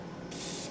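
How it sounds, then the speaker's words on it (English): Morphe setting spray misting from a pump bottle, a short soft hiss that builds and stays close, heard alone without talk. "first we're going to use our Morphe setting spray. It's like a mist"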